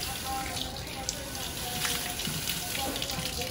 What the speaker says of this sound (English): now we'll just rinse off, and we'll rinse so that the water all goes downhill